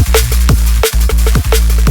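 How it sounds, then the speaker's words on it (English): A processed drum and bass loop built from kick, snare and hi-hat pounds hard and loud, with heavy sustained low kicks, punchy snares and crisp hats cycling in a fast, compressed pattern with no voices. "we're going to make that complete drum sound you just heard only with this kick,"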